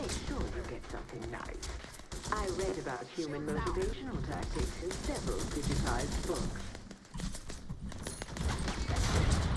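Rapid gunfire in the shooter game Scavengers crackles in quick bursts through the whole stretch, mixed under someone talking in Turkish.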